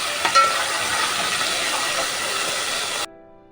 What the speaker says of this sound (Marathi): आलं लसूण पेस्ट टाकायचे ती पण टाकून झाल्यावर तेलामध्ये भाजून घ्यायची आहे